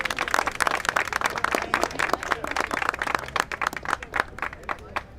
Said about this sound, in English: I think he needed another round of applause